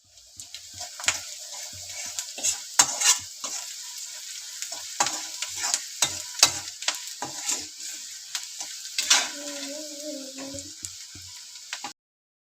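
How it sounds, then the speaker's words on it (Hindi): Steady hissing sizzle of vegetables being tempered in hot oil, with scattered clicks and scraping from stirring. A brief tonal hum rises near the end. "इधर देखिए सब्ज़ी में छौंक रही हूँ"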